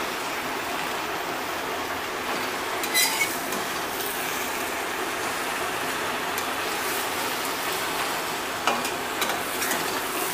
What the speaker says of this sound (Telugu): గోంగూర ఈ ఆయిల్లో వేగాలండి